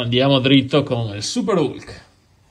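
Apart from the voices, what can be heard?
None of the usual background noises is heard.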